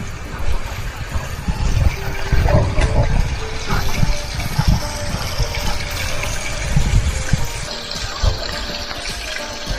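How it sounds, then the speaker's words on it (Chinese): A wild hot spring waterfall in the Nantou mountains pours in a loud, continuous rush of falling water, with steady splashing close by for the whole stretch. "有点烫哦，温泉瀑布。"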